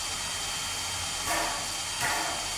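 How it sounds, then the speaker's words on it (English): A steam locomotive's blower hisses steadily in the Trainz railway simulator, a constant broadband rush with two brief louder surges, heard alone at close range. "by turning the blower on, we're introducing more air into the firebox down here"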